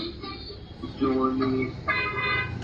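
A toy car's electronic horn sounds in two short tonal honks, close and fairly loud, over a steady low background hum.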